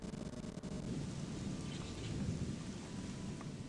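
Steady rain with rolling rumbles of thunder in a stormy outdoor scene of the video game Gothic II, a continuous dense wash of downpour at even loudness with low booming underneath.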